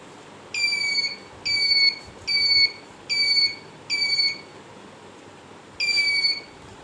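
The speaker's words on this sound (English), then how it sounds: "And here is the buzzer inside here" A hand-held metal detector's shrill electronic buzzer beeps five times in an even rhythm, pauses, then sounds once more; the beeps are loud and close.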